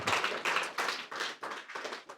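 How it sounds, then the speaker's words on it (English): Small group at a networking evening giving a short burst of applause, a handful of close claps in uneven pulses that taper off within a couple of seconds. "give her a round of applause"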